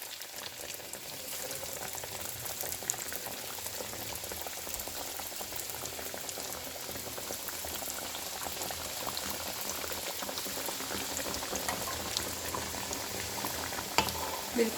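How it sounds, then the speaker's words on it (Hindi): Round samosas stuffed with potato and cheese fry in hot oil over a medium-to-low flame, giving a steady, even bubbling hiss that runs unbroken and fairly close throughout, with no voices. "इसको मैं अब डाल रही हूँ गरम ऑयल में। ये देखिएगा व्यूअर्स, ये मैं इसको फ्राई करने लगी हूँ।"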